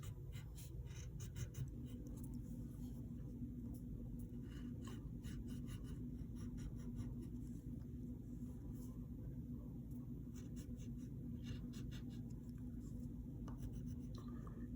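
Pencil drawing a cartoon ninja turtle on paper, soft scratchy strokes repeating in quick bursts, faint and close over a low steady room hum.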